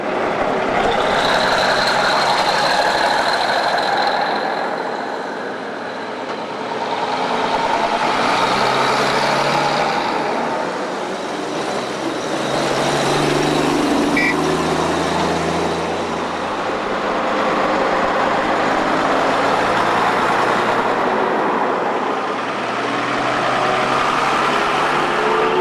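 Well-preserved vintage diesel lorry engines running together, a loud, sustained throbbing drone with slow swells and dips in volume, idling and revving over roughly twenty-five seconds with no talk.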